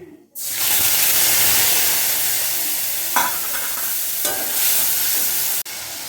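Ginger and green chili paste sizzling and frying steadily with spices, dry red chili, cumin, cardamom and cinnamon in hot oil, a continuous loud hiss with a couple of brief stirring scrapes near the end.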